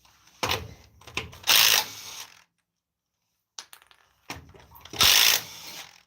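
Wheel coming off a 2014 Dodge Ram 1500 during a bearing and suspension job: two loud bursts of impact-wrench ratcheting on the lug nuts, separated by a silent pause, close and with no talk.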